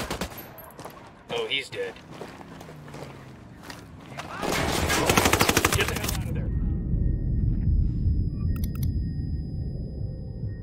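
Bursts of automatic gunfire from a Ghost Recon Wildlands firefight, with rapid loud volleys building to a dense, sustained barrage of shots near the listener, while a voice speaks briefly over the shooting.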